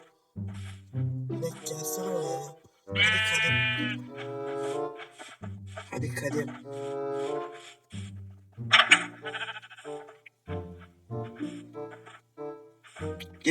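Sheep bleat repeatedly in Minecraft amid game-style sound effects and music, with a person talking over them throughout.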